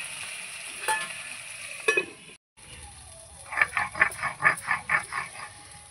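Food being stirred in a frying pan: a soft background sizzle with a couple of sharp scrapes early, a short pause, then a quick rhythmic series of scraping strokes close by.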